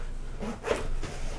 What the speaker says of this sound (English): we grab that one zipper that I mentioned earlier